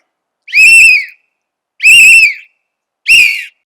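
A person whistles loudly with the fingers in three long, piercing blasts, each separated by a short pause, with nothing else heard.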